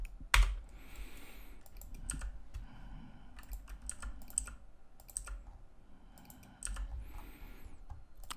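Computer keyboard keys pressed while working in SketchUp, a quiet series of sharp clicks and taps in irregular bursts with brief pauses between, close and alone with no talking.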